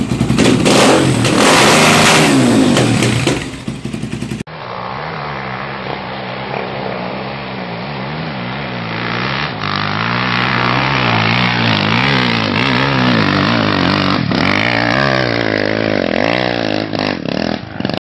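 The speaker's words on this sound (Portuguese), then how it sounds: "Essa moto sua tá um canhão, Lucas." A tuned motorcycle engine with a badly worn exhaust revs loudly and repeatedly, rising and falling in pitch from close by, with no talking.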